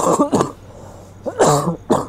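Two short pairs of close, rough coughs with a pause between them, like someone clearing a throat, with no talking.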